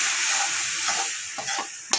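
Potato curry with paste, chili, salt, turmeric and a little water is stirred in a pan, giving a steady hiss and sizzle broken by a few sharp spoon scrapes near the end.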